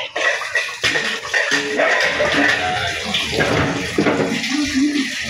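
Water runs steadily from a tap in a home kitchen during cooking, a continuous close splashing rush that lasts the whole time with no talking.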